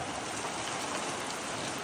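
Heavy rain pours steadily in high wind about 15 miles from Mount Shasta in Northern California, a loud, continuous broadband hiss with no breaks and no voices.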